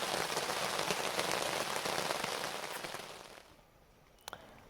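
Heavy rain pours onto surfaces at a wet overlanding campsite near Grande Cache, a dense steady patter that eases toward the end, followed by a couple of sharp close knocks.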